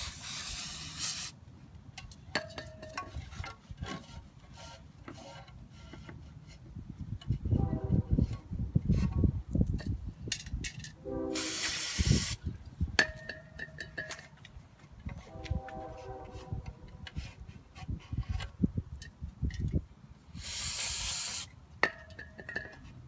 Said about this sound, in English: If you need to, go back and spray where it goes.